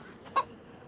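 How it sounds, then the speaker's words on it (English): A single short cluck from a chicken in the survival game DayZ, one brief squawk standing out against quiet outdoor ambience, with no voices. "Here's a good chicken"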